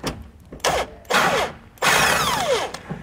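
A power tool, likely an impact wrench, removing a nut from a suspension bolt while mounting a Dexter E-Z Flex suspension kit on a 2021 Grand Design Imagine trailer. It fires three loud, close whirring bursts, each longer than the one before.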